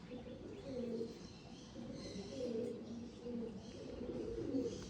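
Andhra breed pigeons coo in a low, rolling rhythm, several birds close by in repeated bursts over faint chirps, with no talking.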